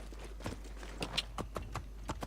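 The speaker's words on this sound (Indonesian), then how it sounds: "Ada kuda tiba-tiba." Horse hooves clip-clop on hard ground in the video game Assassin's Creed, a steady walking rhythm of distinct, moderately close hoof strikes over a faint low background hum.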